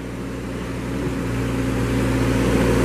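A 2014 Moffett M55.4 truck-mounted forklift with its engine running, a steady close mechanical drone that rises slightly in loudness, heard alone.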